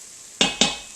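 Garlic stirred in an Instant Pot: two sharp metallic scrapes or clinks of a utensil against the pot in quick succession over a quiet background.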